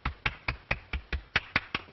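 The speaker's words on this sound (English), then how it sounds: "Applaud." A lone pair of hands claps slowly and evenly, about nine sharp claps in two seconds, close and crisp with no talk over them.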